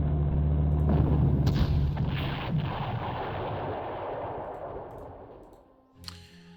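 Heavy artillery fire in the WWII strategy game Panzer Corps, an East Africa battle: a loud, booming blast rolling into a long, fading rumble, followed near the end by a sharp, smaller report.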